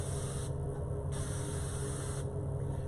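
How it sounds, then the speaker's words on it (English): Avocado oil cooking spray hissing from a can, soft and steady over a low background hum in a kitchen, with the spray tone shifting in short sections. "I am going to spray with a little avocado oil"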